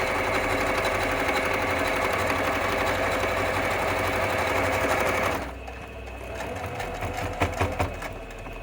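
A sewing machine stitching a Bharatnatyam dance costume, its steady close whirring hum running for several seconds before dropping to a quieter, uneven rattle as it slows.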